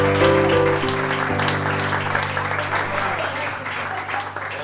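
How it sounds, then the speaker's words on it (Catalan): An audience applauds a volunteer reader at a live podcast recording, steady crowd clapping under a low sustained musical hum, slowly easing in loudness. "Un aplaudiment per la Roser"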